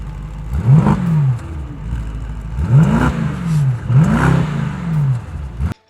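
A Maybach SL 680 Monogram sports car engine is revved three times, each blip rising and falling in pitch, close and fairly loud with brief idle between revs.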